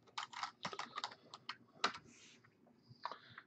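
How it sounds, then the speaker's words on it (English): Quick bursts of keystrokes on a computer keyboard, irregular clusters of close clicks with short pauses between them, fairly quiet and with no talking. "Let's get over here and type in live."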